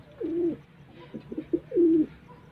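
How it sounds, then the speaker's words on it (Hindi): A pigeon coos nearby in soft, low, throaty calls, two longer rolling coos bracketing a few short ones, with quiet background. "ये देखें कबूतर सामने बैठा हुआ है"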